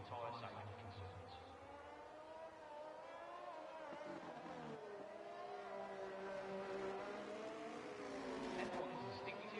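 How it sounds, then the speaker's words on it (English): A Formula 1 race car engine in a sim-racing series at Austria gives a faint, continuous high whine that rises and falls in pitch as it revs, heard from a distance under a low rumble. "F1's distinctive sound."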